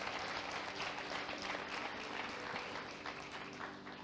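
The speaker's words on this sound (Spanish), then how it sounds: "le damos un aplauso de bienvenida." Welcoming applause from a church congregation during a live Thursday service, steady dense clapping that holds at an even level throughout, fairly distant and roomy with no one talking over it.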